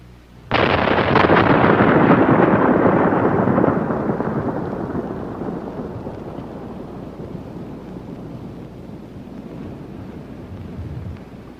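Primer cord in 61 shot holes detonates in one sudden heavy blast that rolls on as a long, thunderous rumble, fading slowly over about ten seconds.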